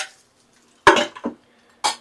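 Fried giant river prawns are lifted from a frying pan into a bowl: three sharp metallic clinks of a utensil against cookware, close and distinct, separated by silence.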